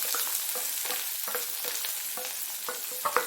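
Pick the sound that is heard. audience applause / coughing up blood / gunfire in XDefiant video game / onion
onion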